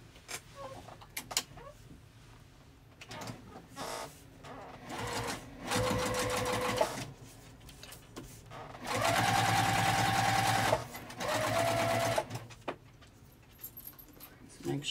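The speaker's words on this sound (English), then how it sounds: "push the lining towards there, and top stitch on here" A sewing machine top stitches a fabric zipper pouch with its lining pushed back, running in several bursts of steady whirring separated by pauses, handling and a few spoken comments.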